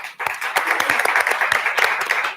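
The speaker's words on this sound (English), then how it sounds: "a great round of applause to our sponsors, ladies and gentlemen." Audience applause for sponsors at a prize-giving ceremony, a short round of clapping with distinct sharp individual claps standing out over a wash of hands.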